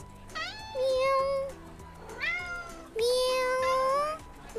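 A voice imitates a cat meowing, giving three drawn-out, rising and falling meows with short gaps between them over a soft backing tune.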